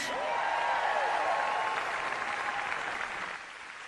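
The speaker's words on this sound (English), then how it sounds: "how about another cheer for our great House Democratic leader in Washington, Hakeem Jeffries?" An audience at a Democratic Party political event in Illinois applauds and cheers steadily, a dense wash of clapping that fades slightly toward the end.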